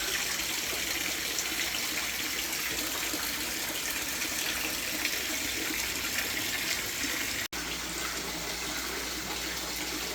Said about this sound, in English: If you hear the water running